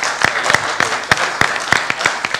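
A small audience at an agronomy debate claps for the panelists in scattered, uneven bursts, the sharp claps close and fairly loud over a low background hum.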